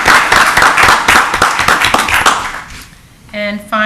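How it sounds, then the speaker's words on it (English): A town council meeting audience claps in a brisk round of applause that fades out after a few seconds, followed by a short tone. "So we can give them a round of applause."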